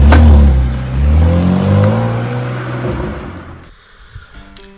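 A Haibike FLYON 8 all-mountain electric mountain bike, 29-inch front and 27.5-inch rear wheels, ridden with loud wind buffeting and a rising, whining motor drone that fades out toward the end, leaving faint rattles.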